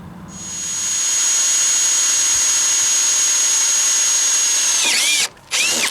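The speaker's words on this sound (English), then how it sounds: "Drilling out for the guardrails on the switch." A loud, high-pitched power drill whines steadily into rail steel, drilling holes for guardrails on a railroad switch, for several seconds, then sputters and winds down with a couple of short bursts.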